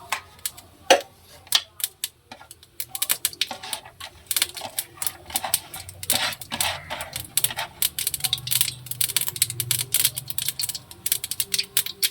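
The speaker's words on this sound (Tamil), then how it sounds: "கடுகு எல்லாம் பொரிஞ்சிருச்சு" Mustard seeds spluttering and popping in hot oil in a home kitchen, a rapid, irregular crackle of sharp pops that grows denser over time.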